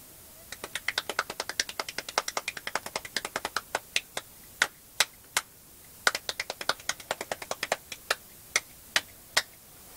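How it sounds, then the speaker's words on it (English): A single hand clapping against itself gives a fast run of sharp, dry snaps that settles into slower, evenly spaced claps, close and fairly quiet with no voices. "The sound of one hand clapping"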